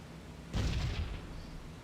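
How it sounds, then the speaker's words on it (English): In the B-17 The Mighty 8th flight game, a single flak burst explodes as a muffled, fairly distant boom. A low rumble trails off over the steady engine drone. "More flak."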